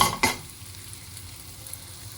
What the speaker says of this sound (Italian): La padella ormai è calda, comincio a mettere giù le polpettine.